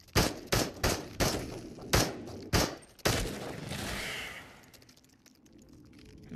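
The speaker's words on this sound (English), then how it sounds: "shoot the enemy targets until the mag is empty" Rapid gunshots emptying a magazine at targets in the VR game Into The Radius: about seven sharp, loud reports in an uneven rhythm, then a softer mechanical rustle as the firing stops, with no talking.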